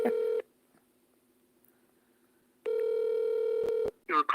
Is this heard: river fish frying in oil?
no